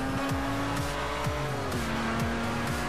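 Race car engine in a Forza Horizon game race, droning loud and steady with repeated quick revs and gear shifts, plus faint tire noise, no talking.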